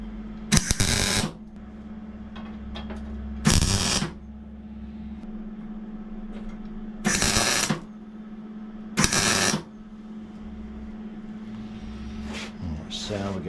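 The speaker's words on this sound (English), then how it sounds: "I'm putting a couple of tacks here and there" Tack welds on a Yamaha XT600 motorcycle sump guard, heard as four short, loud crackling bursts of a second or two each, spaced several seconds apart over a steady low machine hum, with a fainter burst near the end.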